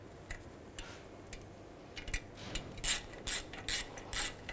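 Ratchet wrench tightening a bolt on the rear brake backing plate of a 2001-2008 Chevy Trailblazer, a run of quick metallic ratcheting clicks that grow louder and denser toward the end, close up with no talking.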